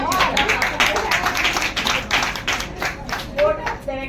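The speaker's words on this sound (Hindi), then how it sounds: "एक बार जोरदार तालियां होनी चाहिए" Audience applause at a Rotary Club gathering in Kota, with steady dense clapping running throughout and a voice talking over it.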